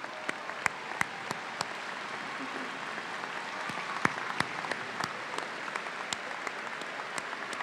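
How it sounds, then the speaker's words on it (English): A large audience at a spring undergraduate commencement ceremony claps steadily, in honor of mothers, with a dense and sustained round of applause and sharper individual claps standing out throughout. "Let's give our mothers the round of applause they so greatly deserve."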